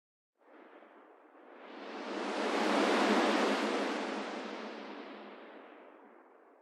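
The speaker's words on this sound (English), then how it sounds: "That first example of wind in the trees was actually generating quite a lot of variation from that one sound held in memory" Synthesized wind blowing through trees, a broad noisy rush that swells gradually to a loud peak midway and then slowly dies away, with no voices present.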